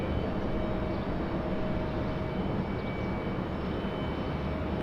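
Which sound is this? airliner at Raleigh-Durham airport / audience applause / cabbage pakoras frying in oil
airliner at Raleigh-Durham airport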